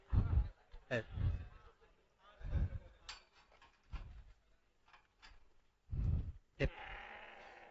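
Several bleats from a stressed sheep or goat about to be slaughtered come in short bursts with pauses between them, close by, and faint voices mixed in.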